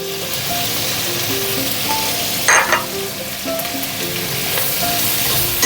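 Chopped ginger and green chili fry in hot oil, giving a steady, close, fairly loud sizzle that runs throughout, with a brief sharper burst of spattering near the middle.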